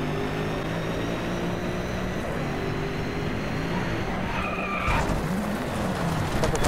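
Tyres squeal continuously through a long sustained drift in the racing game Driveclub, a steady screech over engine drone that shifts pitch near the end as the car straightens.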